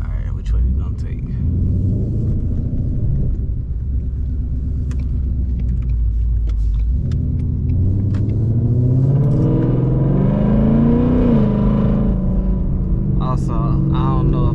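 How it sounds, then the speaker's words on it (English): Car exhaust rumbling steadily while driving with the back seats folded down, a loud low drone that swells as the engine revs and accelerates midway, with a voice talking over it. "I got my back seats down, so the exhaust might sound a little bit louder"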